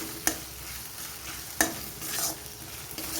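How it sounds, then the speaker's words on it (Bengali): Chopped tomatoes sautéing with ginger in a pan, a soft continuous sizzle marked by two sharp utensil taps and scraping stirs. "টমেটোটাকেও কিছুক্ষণ আদার সাথে কষিয়ে নেব যাতে একটু নরম হয়ে যায়"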